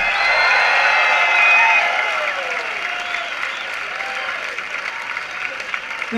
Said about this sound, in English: How about another round of applause for Dr.